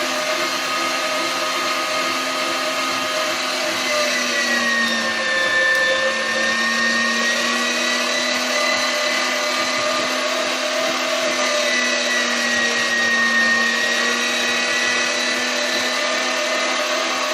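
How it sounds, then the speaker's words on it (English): An electric meat grinder runs steadily while bacon slices are fed through it, giving a continuous motor whine with a slight shift in pitch midway and no talking. "to 4 slices at a time in the grinder. Just get it in there, and you'll notice that it's coming out more white than anything else"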